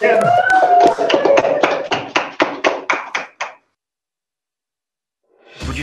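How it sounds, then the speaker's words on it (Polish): Applause at a gala for a Polish association in Kazakhstan, a short round of clapping that thins into a few separate claps and then stops, with talk at the start. "Wielkie brawa."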